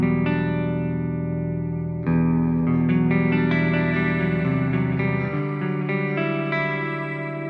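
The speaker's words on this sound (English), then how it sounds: "That's my favorite shimmer reverb" Electric guitar chords ringing out through a lush, shimmering reverb, with sustained, layered tones and a slight chorus wash, played alone.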